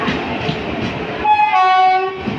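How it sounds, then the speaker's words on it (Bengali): Sairang–Kolkata Express, a very long train, rolling into Baharampur station with a steady clattering rumble, then a loud, sustained horn blast joins in close by over the final second. "এই হলো প্রবেশ করছে, দেখতে পাচ্ছেন, এই হলো সেই ট্রেন"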